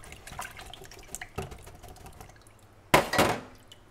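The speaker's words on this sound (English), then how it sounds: "we're just going to rinse that out in the water." A wax brush being rinsed out in water: quiet sloshing and dripping, then a louder splashy swish of water near the end, close by and without speech.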